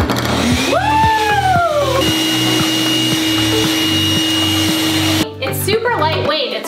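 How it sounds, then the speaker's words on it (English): A hot-and-cold dog blow dryer, lightweight and portable, runs with a loud steady whine and motor hum throughout, rising tones sweeping briefly near the start before it cuts out near the end. "It's a dog blow dryer."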